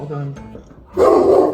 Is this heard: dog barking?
yes